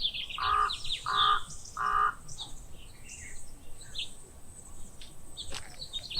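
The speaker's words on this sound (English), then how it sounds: "the birds having a chirping party as the sun sets and the moon rises" Birds call at sunset: three loud, evenly spaced calls come first, followed by scattered fainter chirps and tweets in the open air, with no talking.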